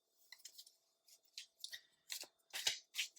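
Tarot cards being shuffled by hand in quick, irregular riffles and slides, a series of crisp papery bursts that grow busier toward the end, close and quiet with no talking.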